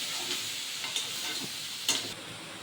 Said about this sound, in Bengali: একটু ভাজা করে নেব, মানে ভালো করে।